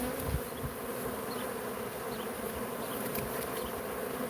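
A hive of about 100,000 bees fans hard after a pyrethrin spray, a dense, loud, continuous buzzing drone close by with individual insects zipping past.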